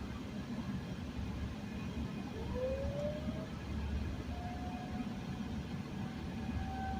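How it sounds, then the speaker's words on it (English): A town siren sounding for eleven o'clock, faint and distant, rising and holding a thin tone over steady low rumble from a car during a stick-shift driving lesson. "It's already 11 o'clock because the siren's going off."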